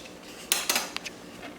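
Metal cooking pots clank as one is swapped for a deeper pot, a few sharp bright knocks and scrapes in quick succession, close and clear against a quiet kitchen.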